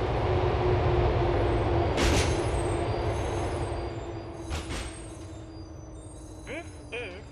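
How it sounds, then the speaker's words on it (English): A Liberty City subway train in GTA IV rolls into Easton Station with a steady low rumble and hum that eases as it slows, with a few squeals and a voice announcing over it. "The train is approaching Easton Station."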